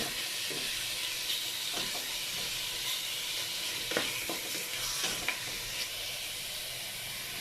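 Pork browns in a hot pan for sinigang, giving a steady close sizzle and hiss of frying with a few louder crackles and pops, and no talk.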